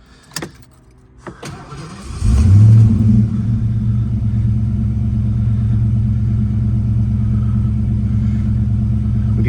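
Fox Body Mustang V8 cranking over and catching with a loud rumbling start, then settling into a steady, deep, close idle after a couple of clicks at the beginning.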